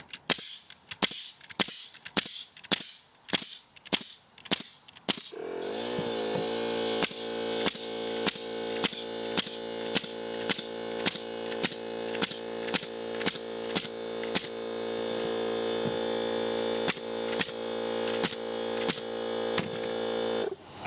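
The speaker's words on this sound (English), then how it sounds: "I'm just gonna keep firing nails off for a minute to see what happens." A nail gun driven by a DeWalt pancake compressor fires nail after nail in a steady sharp rhythm, each crack loud and close, with the compressor motor starting up and humming continuously beneath the repeated shots.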